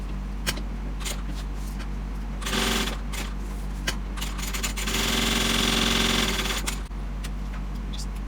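A sewing machine stitches handbag fabric, sewing a reinforcement stitch in two short whirring bursts. Quiet handling noises fall between them.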